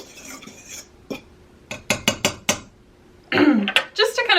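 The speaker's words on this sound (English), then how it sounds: "Just to kind of aerate everything and get everything mixed together before you add the butter." Flour, baking powder and granulated sugar are mixed in a bowl for scones, making a run of sharp, separate utensil clinks and scrapes against the bowl, then a denser burst of clattering mixing near the end.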